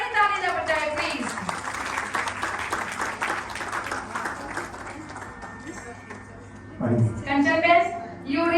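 An audience claps for Kanchan Ben at a religious katha gathering, sustained applause from a crowd that swells and lingers, with a voice speaking over it at the start and end.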